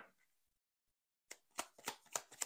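Tarot cards being shuffled and drawn: after a quiet start, a run of crisp riffling snaps and soft flicks, close and fairly loud, with no voice over them.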